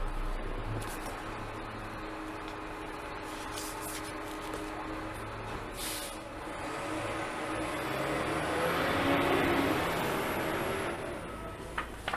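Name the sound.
garbage truck running outside on a Brooklyn street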